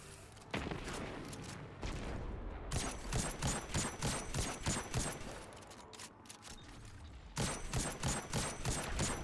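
Scout rifle gunfire in Destiny 2 during a Grandmaster Arms Dealer Nightfall, heard as a burst of close, loud shots, then a short pause, then another long run of regular rapid shots over game sound.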